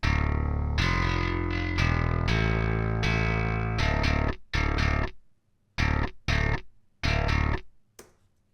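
A loud, gritty bass guitar, its low-end and high-end signals blended, plays full sustained notes, then shifts to short choppy stabs separated by silence, its deep low end layered under a distorted upper edge.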